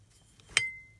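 Heavy, bottom-heavy glass hurricane lamps from a dollar store give a single sharp clink with a short ringing tail, close and fairly quiet, with no one talking.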